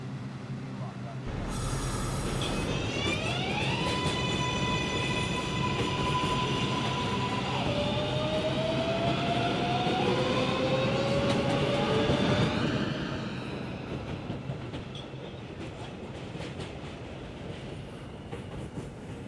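A Reventon-bound 6 local subway train pulls out, its motors whining in rising, stepped tones over a loud, close rumble and rattle of the cars, then easing into a steadier roll.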